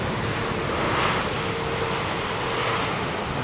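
An airliner's engines roar steadily on a wet Heathrow Airport runway, a broad continuous rumble heard from a distance that swells slightly and holds throughout, with no voices.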